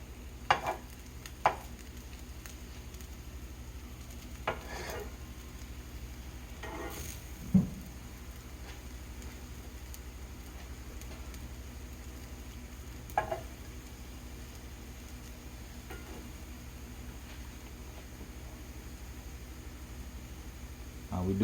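French toast fries in a hot pan with a soft, steady sizzle, broken now and then by faint clicks and scrapes from turning the slices.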